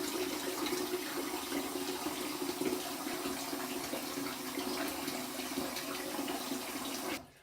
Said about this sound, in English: I'm going to fill the sink a little bit, and while that's filling up